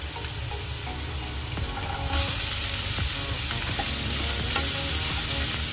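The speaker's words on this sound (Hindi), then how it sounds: "अब हम इस अनियन को सॉफ्ट होने तक पकाएंगे" Onion fries in a pan with a steady, close sizzle, then stirring adds scraping and clinks as the sizzle grows louder, and no one speaks.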